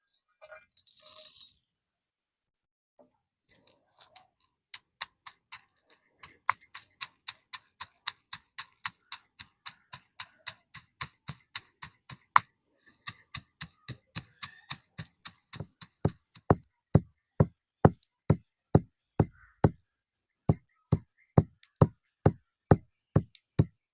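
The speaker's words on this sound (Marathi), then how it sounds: "आता उकळीत शेंगदाणे कुटून घेऊ आपण" Roasted peanuts pounded by hand for a tomato aamti cooked over a wood-fired stove, a long run of sharp, dry thuds that start sparse and irregular, then settle into a steady, louder rhythm of evenly spaced strikes, with no talking.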